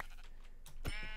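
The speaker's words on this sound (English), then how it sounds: "I hear more sheep" A single sheep bleat from the Minecraft video game rings out near the end of a short, faint stretch, preceded by soft background game sounds.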